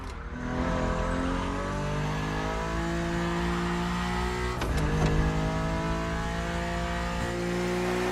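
BMW Z4 E89 engine in The Crew Motorfest, a steady droning exhaust note held at high revs with a couple of brief gear-shift dips, loud and continuous with no talk.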